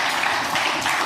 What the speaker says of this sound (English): Applause for JLB